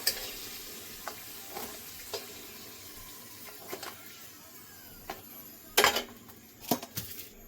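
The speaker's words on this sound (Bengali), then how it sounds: "সবগুলো কচু ভাজা হয়ে গেল" Taro pieces sizzle quietly in a frying pan as they are stirred, with scattered scrapes and taps of the utensil against the pan, a few louder clanks near the end, close and without talk.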